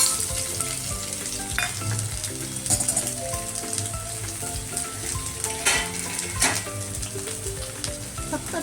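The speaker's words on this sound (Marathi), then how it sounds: "सगळ्यांनो बघा, कांदा भाजून घेऊया" Onions sizzle and crackle as they fry in a pan for jowar noodles, with occasional stirring clatter from a utensil. The frying stays steady and close throughout, and nobody speaks.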